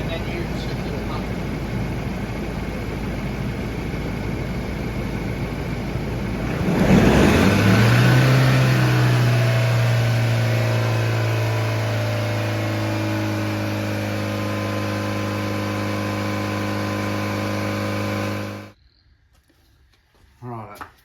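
A car engine kicks into life and revs loudly to help jump-start a Ducati 1098, holding a steady high drone for about ten seconds before it cuts off abruptly.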